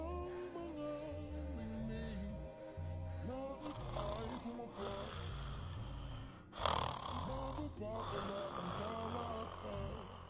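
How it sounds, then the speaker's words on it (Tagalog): Loud snoring comes from someone asleep in a classroom, rough rasping breaths close by, with a sharp snort partway through and people talking over it. "Ang lakas ng hilik."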